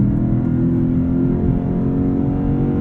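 A 2023 Lexus IS 500's V8 engine pulls hard under acceleration, a loud, steady, deep roar with layered low harmonics sustained throughout, heard from inside the car with no talking.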